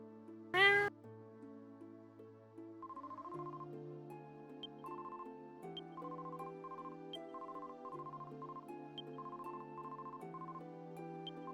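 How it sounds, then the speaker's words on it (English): A cat meows once, loud and close, then a steady electronic ringtone-like melody plays on alone in the background of a Dragon Warrior 7 game session. "Cat's chilling in the back there."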